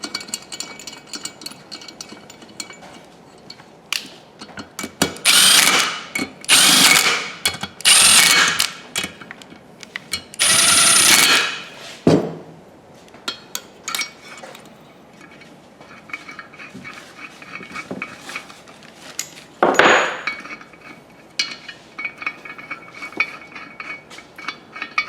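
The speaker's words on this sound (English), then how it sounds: "Now he's going to start installing the valve spring compression tool." A valve spring compression tool is fitted onto a Ford 4.6L cylinder head from a 1997 F-150, with bursts of metallic clanking and ratcheting mixed with quieter rattles.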